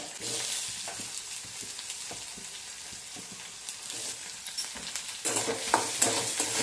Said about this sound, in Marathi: चांगला परतवून घ्यायचा आहे सोनेरी रंग येईपर्यंत आपल्याला हा कांदा परतवून घ्यायचा आहे